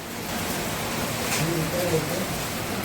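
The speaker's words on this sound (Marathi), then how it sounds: "बाहेरचं बघा पाणी आमच्या पुण्यात पाऊसच पाऊस एकसारखा पाऊस आहे" Heavy monsoon rain falls outside in Pune as a steady, even wash of hiss with no breaks, filling the space around a home.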